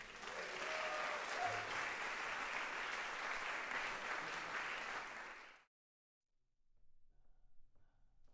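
An audience at a jazz concert breaks into sustained applause, a full and even roar of clapping that cuts off abruptly, leaving quiet room noise with faint movement afterward.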